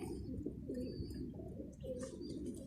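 Pigeons in their loft on an overcast day, soft cooing calls repeating over a low murmur with a few chirps, fairly close.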